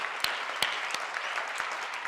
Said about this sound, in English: Can you please just give them a big round of applause?